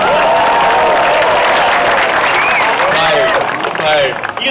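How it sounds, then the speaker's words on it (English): An audience at a Fully Charged Live show in Austin, Texas claps and cheers, a loud dense wash of applause that holds steady and then begins to thin out near the end, with voices mixed in. "Applause there."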